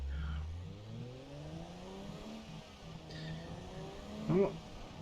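Engine note from a car in the BeamNG driving game, a low revving tone that climbs and falls with harmonic sweeps, moderately loud with a brief sharp burst near the end.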